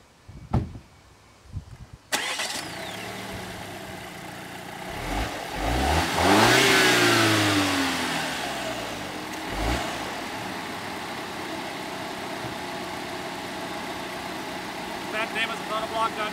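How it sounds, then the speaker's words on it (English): A Volvo S60 T6 Drive-E direct-injection engine starts and revs up, then settles into a steady idle with a faint injector ticking and mechanical clatter, heard close by. "with the high pressure direct injection, makes a little bit of direct injection noise"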